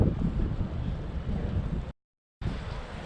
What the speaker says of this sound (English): Very cold Baltic wind hitting me.